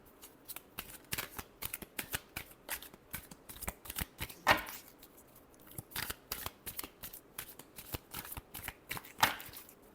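A deck of tarot cards is shuffled by hand in quick, crisp riffles and soft flutters, with a couple of sharper bridging bursts, all close and fairly quiet.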